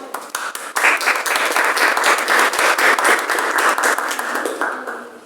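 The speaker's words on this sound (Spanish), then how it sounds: "Un aplauso." An audience at a cultural reading event breaks into applause: a few scattered claps quickly swell into dense, loud, sustained clapping that holds steady for several seconds before starting to thin out.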